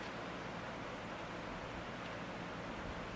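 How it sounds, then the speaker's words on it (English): Rushing water from babbling brook rapids below a chalet forms a steady, even hiss of broadband noise, unbroken and fairly faint, with no voices. "I don't know if that's a river or a creek or what, but it sounds like rapids."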